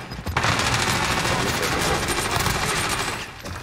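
Sustained automatic gunfire from the video game Warzone, dense and loud bursts that run almost the whole time after a brief quiet start, with a faint voice underneath.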